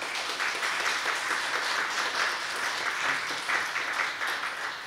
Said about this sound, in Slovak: prosím, potlesk pre ňu